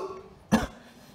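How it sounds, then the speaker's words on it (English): A single short, sharp cough from a person outdoors, close and fairly loud against a quiet background. "I just coughed!"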